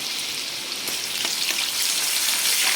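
Ginger garlic paste fries in hot oil with a dense, close sizzle and fine spattering crackle that grows slightly louder toward the end, with no talking.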